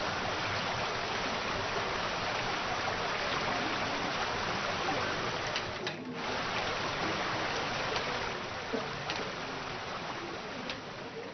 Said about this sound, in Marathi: ओझरडे नौजा धबधबा सध्या पर्यटकांचं प्रमुख आकर्षण देखील ठरतोय।